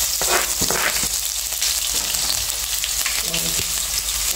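Ground seasoning for ackee and corned pork frying in a pan, a close, dense, continuous sizzle with a few light knocks and scrapes.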